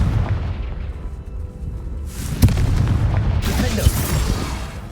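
Confringo fire spells blast in Hogwarts Legacy, with two sharp impacts a little over a second apart ringing out over a steady, loud rumble of combat noise.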